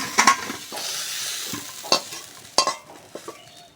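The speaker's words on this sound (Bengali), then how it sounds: "বন্ধুরা সয়াবিন আর আলুটা ভালো করে ভেজে নিয়েছি" Soybean chunks and potato sizzle steadily in a hot pan, broken by a few sharp scraping stirs of a spatula; close and moderately loud, no voices.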